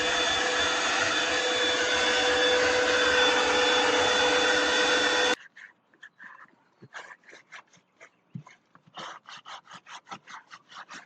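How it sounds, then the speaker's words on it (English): A vacuum cleaner works inside a Subaru Forester during a rebuild, droning loud and steady for about five seconds before cutting off abruptly, followed by quieter intermittent rubbing and scrubbing sounds. "So I think I'll go get the vacuum now."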